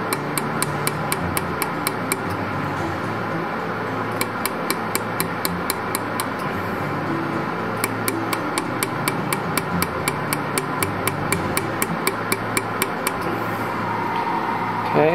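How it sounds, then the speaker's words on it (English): Laser welder pulsing on a dental space maintainer in a lab, rapid evenly spaced sharp clicks in bursts over a steady machine hum, no talk. "Now I reposition, start welding this side."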